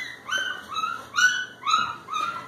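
Two-week-old puppies in a whelping box give five short, high yips in a quick irregular series, close and clear with no voices over them.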